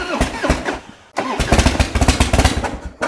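Harley-Davidson motorcycle engine, a Sportster among them, that has sat without a battery tender cranks and fires up close by, settling into a loud, lumpy, uneven idle with no talking.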